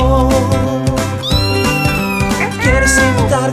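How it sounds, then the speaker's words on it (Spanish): A cat meows repeatedly in clear, loud, close cries with rising and falling pitch, one call after another over a light musical backing. "Vamos a escuchar cómo hace el gato."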